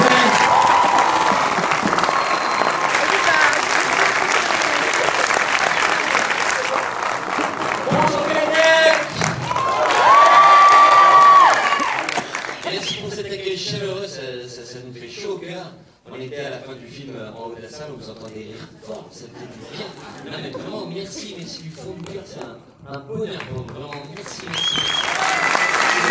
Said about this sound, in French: On peut les applaudir bien fort encore, s'il vous plaît